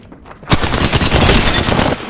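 Sustained automatic gunfire in Apex Legends erupts after a brief quiet moment and rattles on loudly and close without pause until the end.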